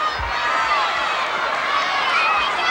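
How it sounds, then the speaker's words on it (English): Huge stadium crowd at an outdoor professional wrestling event at Texas Stadium during a world heavyweight championship match, a steady roar and murmur of thousands filling the air with a commentator talking over it. "The largest crowd ever."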